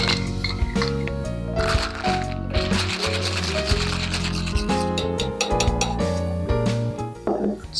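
Ice rattles and clinks inside a cocktail shaker as a Rumaretto Sour with rich Demerara syrup is shaken, giving a loud, busy stream of knocks and chinks that runs steadily for several seconds.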